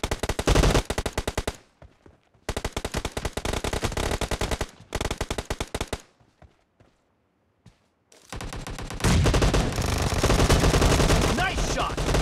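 Video game gunfire in an arena shooter: long, loud, rapid machine-gun bursts close up, broken by short silent gaps, then a dense continuous volley at the end.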